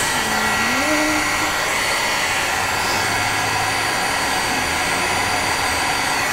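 A handheld heat tool blows a steady, loud, continuous whoosh while drying a craft project, running unbroken from start to finish.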